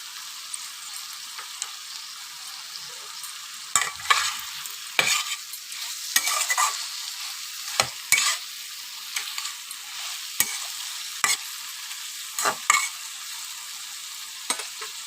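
Okra (bhindi) frying in a pan, with a continuous soft sizzle and repeated scraping stirs of a spatula at irregular intervals, close and moderately loud.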